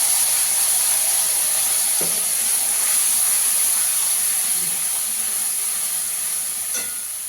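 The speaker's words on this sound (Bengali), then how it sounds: "এখানে সর্ষে পোস্ত কাঁচা লঙ্কা বাটাটা দিয়ে দেবো।" Mustard, poppy seed and green chilli paste sizzles in a hot pan as a loud, steady hiss that fades slightly toward the end, with a couple of faint clinks.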